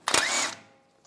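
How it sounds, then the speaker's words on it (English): A 21mm socket spins the drag link nut off a Jeep Wrangler's steering linkage, a short loud burst of power-tool whirring that trails off quickly. "Using a 21mm socket, take this nut off."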